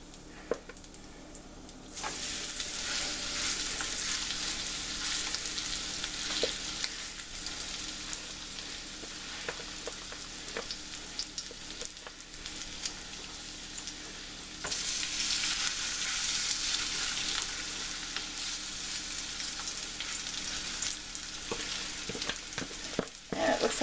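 Potato and rutabaga latkes fry in olive oil in a pan, a continuous loud crackling sizzle that swells noticeably at a couple of points, likely as more batter hits the oil, with no talking.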